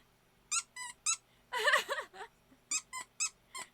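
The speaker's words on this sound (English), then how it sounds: "Does his nose squeak? Of course!" A toy's squeaky nose being pressed repeatedly, sharp high squeaks in an irregular rhythm with one longer stretched squeeze in the middle, close and clear with no talking.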